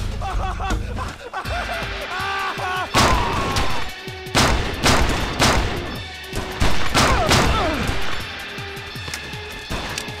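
Gunfire and grenade blasts in the first-person shooter XIII, with loud, dense bursts of shots and heavy explosive booms repeating close by throughout, mixed with game sounds.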